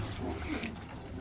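Pigeons coo softly at a breeding setup, low faint calls blending into quiet background noise.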